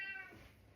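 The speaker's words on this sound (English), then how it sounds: "Oh, that's the cat." A cat in a home kitchen gives one short, faint meow that fades quickly, heard alone at a distance.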